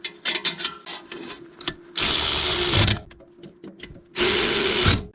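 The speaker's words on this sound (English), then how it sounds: "I'll start them by hand to make sure they're where they need to go, and then I will hit them with the electric ratchet" An electric ratchet tightens the brake caliper bracket bolts on an Audi A4 Quattro, with two sustained whirring runs of about a second each between softer clicks and handling noises, close and fairly loud.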